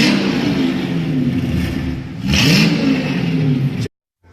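A car's new Mercedes S55 engine revs loudly up and down, rising to a peak midway, then cuts off abruptly into silence.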